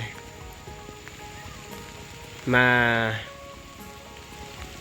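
Rain falls steadily on rural farmland in Laos during ploughing, a soft continuous hiss of drops, with a short spoken word rising briefly over it partway through.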